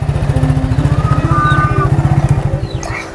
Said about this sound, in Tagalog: Ang ganda ng takbo ng motor ko